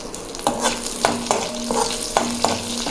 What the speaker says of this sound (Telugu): ఇవి వేయించుకోవాలి అలాగే వీటిలో ఎండుమిరపకాయ కరివేపాకు